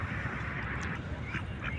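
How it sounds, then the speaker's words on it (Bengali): Large Chinese ducks on a park pond in Doha's Aspire Park give faint, distant quacks and honks over a constant background hum, with no clear close calls. "দেখুন বন্ধুরা কত বিশাল চীনা হাঁস, দেখতে কত সুন্দর লাগে"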